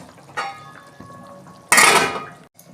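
A metal lid clanks and scrapes onto a pot of potato and pointed gourd curry, a soft clink first, then a louder, brief rattling clatter as it settles, with a small knock at the end.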